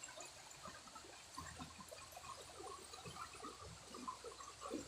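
A river rising in a sudden flood after water surged in from upstream makes a steady, faint rush and gurgle of flowing water throughout, with no talk over it.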